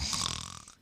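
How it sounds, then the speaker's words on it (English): A single brief snore, a rough breathy rasp lasting under a second and trailing off quietly. "that's me snoring"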